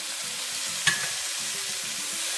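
Tomato added to a hot frying pan while cooking Shahi Murgh Musallam, giving a steady close sizzle with one sharp splash or clatter as it goes in, then continued frying hiss.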